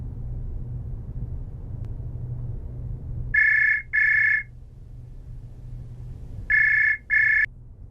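A telephone rings indoors in two pairs of short, bright electronic bursts with a pause between the pairs, loud and close over a low, steady room rumble.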